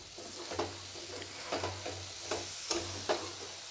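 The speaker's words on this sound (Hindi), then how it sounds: "इसमें मैं डालूँगी चना, और इसमें मैं डालूँगी आलू। अब दोनों को मैं मिक्स करूँगी।" Chickpeas and potatoes are stirred into frying masala for chana aloo sabzi, a spoon scraping the pan in four or five distinct strokes over a steady low sizzle, close and fairly quiet with no talking.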